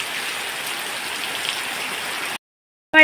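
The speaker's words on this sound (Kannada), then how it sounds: "ಮಳೆ ಜೋರು ಅಂದರೆ ಜೋರು ಬರ್ತಾ ಉಂಟು ಮಳೆ" Steady, dense rain pours down loudly and evenly for a few seconds, then cuts off abruptly into brief silence before a short clatter of sound.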